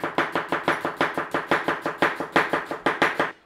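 Onion being chopped for corned beef and cabbage egg rolls: a steady run of about twenty sharp knife strikes on a board, evenly spaced and close, with no talking.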